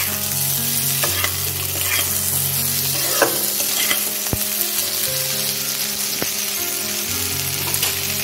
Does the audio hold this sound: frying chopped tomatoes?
yes